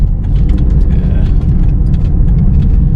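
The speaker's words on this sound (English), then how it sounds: "Feels good to be driving, guys." A car drives on the road with a loud, steady low rumble of engine and road noise heard from inside the cabin, continuous throughout.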